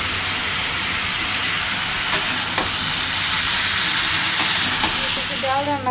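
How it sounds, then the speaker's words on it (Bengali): Vegetables with ground spices fry and get stirred in hot oil, giving a loud, steady sizzle with occasional spatula scrapes and clicks. "তেলটা গরম হয়ে গেছে সব সবজিগুলো দিয়ে নিছি সব গুঁড়া মশলা দিয়ে নিছি এখন ভালো করে নেড়ে চেড়ে আমি খেয়ে নেবো"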